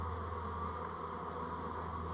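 Honey bees buzzing around an opened hive during a varroa mite test, a steady dense hum close by with no talk.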